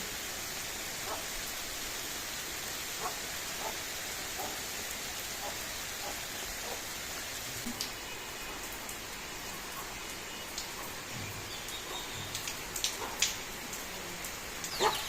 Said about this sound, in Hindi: ये देखें जी बारिश ना काफ़ी तेज़ हो चुकी है।